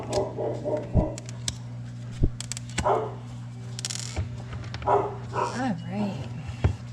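Several dogs at home react to someone in the backyard with excited barks and yips, scattered sharp bursts mixed with whimpering under a person's ongoing talk.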